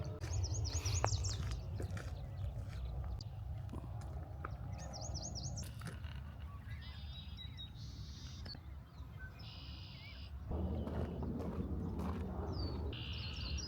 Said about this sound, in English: That's a yellow warbler.